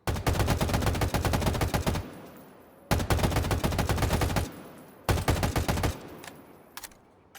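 Bursts of rapid automatic weapon fire in a video game, three loud sustained volleys of roughly two seconds each separated by short pauses, the last trailing into a couple of isolated shots.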